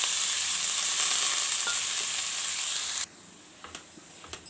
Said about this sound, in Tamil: இப்போது அதே நெய்யில் ஒரு கிண்ணம் அந்த கேரட்டு அதை உள்ளே போட்டு நல்லா வதக்கி எடுத்துருவோம்